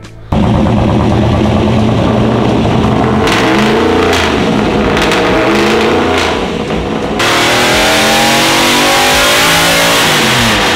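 LS2 V8 swapped into a BMW E46 revs hard on a dyno, a loud, continuous engine roar climbing and holding through the whole pull with no talk over it.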